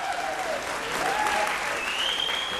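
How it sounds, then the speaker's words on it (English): Steady, dense audience applause at a televised vocal competition show on stage, a full even wash of clapping with a few faint whistles rising above it. "A big round of applause, please, for our productions partners and sponsors."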